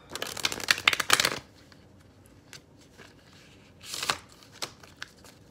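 A deck of cards being shuffled nearby, a quick riffle burst followed by quieter handling, then a second shorter riffle and a few soft clicks.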